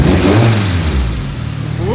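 A roadster's engine revs hard and close, a steady low growl with a fluttering pulse that eases off toward the end, alone with no talk.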